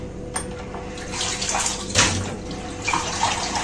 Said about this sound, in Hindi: इसके अलावा इसमें पानी शामिल करूंगी